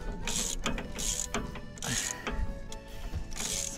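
Ratchet wrench loosening brake caliper bolts on an Isuzu NQR truck, with repeated bursts of close, loud clicking in an uneven back-and-forth rhythm and no talking.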